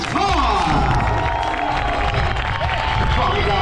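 A crowd at an outdoor stunt show erupts in applause, cheers and whoops, children shouting among them, while an announcer's amplified voice rings over the loud, continuous din.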